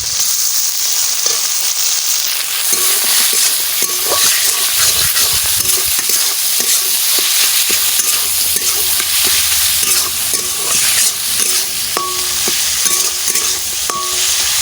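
Chicken goes into a hot pan and fries with a loud continuous sizzle, spatter and occasional stirring clinks, heard close and without speech.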